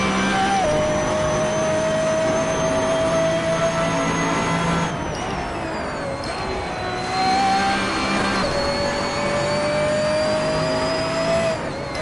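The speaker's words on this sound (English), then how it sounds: "the magnitude of the sound of the engine itself. Like when you give it gas." A racing car engine in the Assetto Corsa driving game whines steadily at high revs, with pitch dipping and climbing again through gear changes and throttle lifts. The sound is loud and close and continuous, and no one speaks over it.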